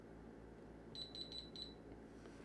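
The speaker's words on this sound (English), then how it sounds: "And it beeps every time you press those buttons." An Aukey Home Alpha Elite air fryer gives four short, evenly spaced electronic beeps as its control buttons are pressed, quiet and close in a calm room.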